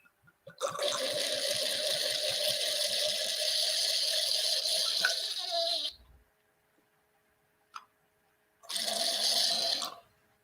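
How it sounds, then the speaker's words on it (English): Red wine poured through an aerator makes a loud gurgling, hissing rush with bubbly pulses that runs for about five seconds and stops, then comes back in a shorter second pour, heard close up. "I'm going to use my trusty aerator to make sure we aerate it."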